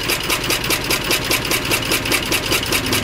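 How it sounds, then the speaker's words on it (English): A Lister CS 6-1 diesel generator running on roughly 85% waste motor oil and 15% red diesel thumps steadily and loudly nearby, its even rhythmic beat carrying through continuously. "This generator runs 24 hours a day, 7 days a week."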